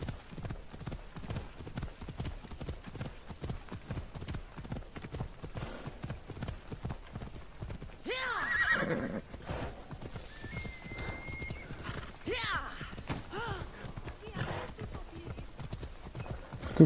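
A horse gallops in Assassin's Creed Odyssey, its steady clip-clop hoofbeats running throughout, with whinnies and a voice talking over the middle and later part.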